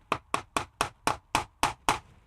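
Eight evenly spaced hammer taps drive a peg into a drilled hole while assembling a spoon scorp kit, each a sharp close knock with a brief ring.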